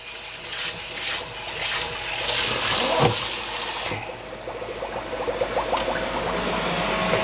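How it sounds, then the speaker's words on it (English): A non-stick pan gets a quick rinse under running water, a steady splashing rush that stops partway, followed by lighter drips and clatter. "Just a quick rinse out."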